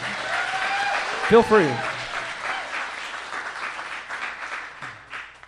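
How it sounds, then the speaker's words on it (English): An audience at a live podcast show breaks into sustained applause that rises around a brief spoken remark, then continues as a steady clapping wash slowly tapering off. "If you want to cheer for that, feel free."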